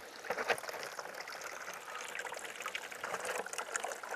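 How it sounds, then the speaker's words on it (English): Faint, delicate trickle of water running out of soil erosion demonstration trays, a soft continuous dribble with small splashy bursts, close and quiet. "Over here we've got water coming from the bottom and the top"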